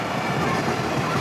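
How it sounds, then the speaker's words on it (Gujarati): A train passing overhead on a rail line above a road, heard as a brief, steady rumbling roar with faint rhythmic rattling, fairly close and continuous. "देखो गाइस क्या जा रही देखो ट्रेन"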